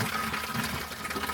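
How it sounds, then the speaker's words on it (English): Coolant drains in a steady, continuous gush from a disconnected water pump hose on a turbocharged BMW, a close rushing and splashing liquid sound with no talk over it. "I'm gonna let it drain like this for a little bit"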